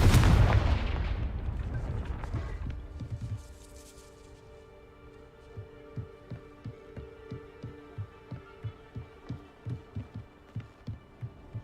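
A Confringo blasting spell goes off in the video game Hogwarts Legacy: a loud booming explosion that decays into a rumble, followed by a steady rhythmic low thumping.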